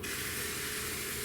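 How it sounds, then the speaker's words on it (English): Chaffle batter hisses and sizzles steadily in a hot waffle maker, a close, continuous frying crackle with no voices. "Here it's sizzling."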